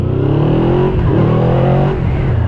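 A Yamaha V-Max motorcycle's 200 hp engine revs up close and loud, its deep harmonic growl rising, dipping briefly, then climbing again in strong continuous pulls.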